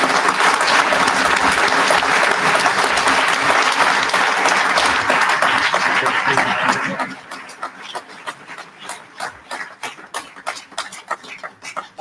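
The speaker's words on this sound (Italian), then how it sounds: "Quindi davvero un grande applauso." Loud, dense audience applause fills a concert hall during a classical music evening honoring violinist Uto Ughi, then thins after about seven seconds into scattered individual claps.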